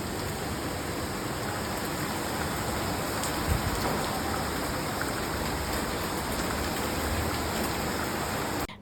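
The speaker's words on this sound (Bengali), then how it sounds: "বৃষ্টির এই ঝুমঝুম শব্দ আমার যে কি পরিমাণ ভালো লাগে" Steady rain pours down in a dense, even hiss that fills the whole stretch without pause, close and constant, with no voices over it.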